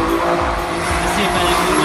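Drift race car on cold tyres that won't grip, sliding in a qualifying run at Trackwood 2016: a loud, constant engine roar mixed with tyre noise, close and unbroken.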